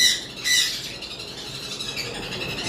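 Harsh, raspy lovebird squawks rise clearly near the start, then a steady chatter of small parrots continues throughout, close by with no talking.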